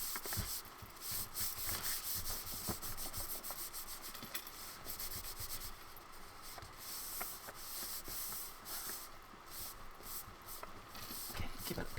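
A hand rubs glued signatures down onto a bookbinding book block, a steady soft scraping and brushing that runs continuously with small irregular pulses and no talking.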